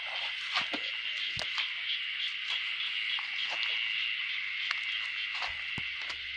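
Dense chorus of many narrow-mouthed frogs calling together in a forest, a steady droning buzz with scattered sharper croaks and clicks, continuous and fairly close, no voices present.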